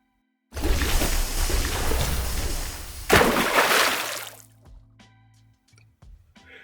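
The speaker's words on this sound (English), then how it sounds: "Let's then see what a little water does." A little water is poured into a glass of Tamnavulin Red Wine Cask Finish whisky, a close splashing pour lasting a few seconds that swells once before tapering into faint drips and small clinks.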